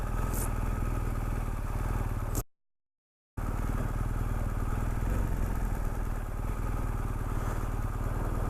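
A BMW GS motorcycle engine runs steadily at a low idle, a continuous close rumble with a short cut to silence partway through.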